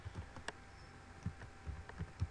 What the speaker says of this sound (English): And then just type in the box here